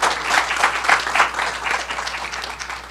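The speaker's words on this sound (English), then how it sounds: "let's give our mistress of ceremony a round of applause" An audience at a conference opening plenary claps for the mistress of ceremonies, lively applause with some louder bursts early that gradually eases toward the end.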